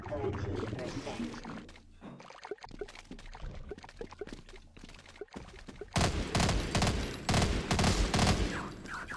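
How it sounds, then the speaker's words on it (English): Rapid gunfire bursts crackle in the video game Half-Life, a dense volley of shots near and loud, growing heavier toward the end, with a voice talking over parts of it. "Now shoot them and run off."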